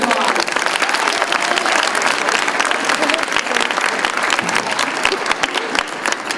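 A school anniversary audience applauds a group of current students, loud, dense clapping with voices and cheers mixed in, sustained throughout.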